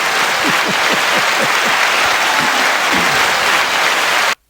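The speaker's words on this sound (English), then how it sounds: "Here's some applause." Loud, dense applause from a crowd, sustained and even, cutting off abruptly at the end.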